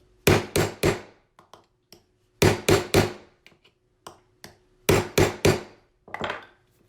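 Hammer blows on a metal stamping blank set on a block, hand stamping alchemy metal at home: three groups of three sharp, loud strikes with a few light taps between, close and alone.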